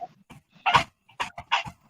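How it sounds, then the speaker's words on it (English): Several dogs bark and yelp in short, sharp bursts, about four quick barks close by, with brief quiet gaps between them and no talking. "Miss Pinkie tiny self be handling them dogs."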